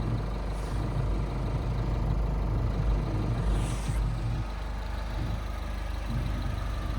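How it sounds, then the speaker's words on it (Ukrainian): A Renault Koleos engine idles with a low, steady rumble throughout, moderately quiet, with a couple of faint higher hisses in the background. "Двигун працює чітко"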